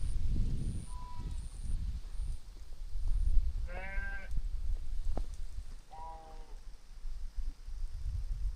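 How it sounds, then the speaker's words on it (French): Two short sheep bleats ring out, the first near 4 s and a second around 6 s, heard outdoors on a hilly road near Kemuning sky hill in Java against steady wind and engine rumble. "Un mouton par là."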